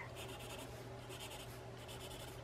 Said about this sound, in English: Just a little bit of pencil.